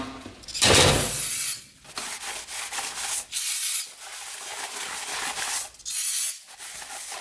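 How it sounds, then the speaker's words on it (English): Hissing bursts of brake cleaner sprayed onto a Kubota diesel engine head, several separate blasts with short pauses between, loud and close, with no talking. "Maybe some brake cleaner, spray it down."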